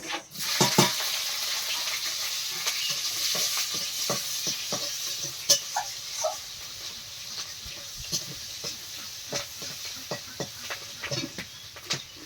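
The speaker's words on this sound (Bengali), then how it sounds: "কড়াই দিয়ে দিচ্ছি 5 ফোড়ন, কাঁচা লঙ্কা আর পেঁয়াজ।" Onion and green chillies fry in a kadai with five-spice tempering, giving a close, steady hiss with repeated sharp scrapes and clicks of stirring throughout, with no talk.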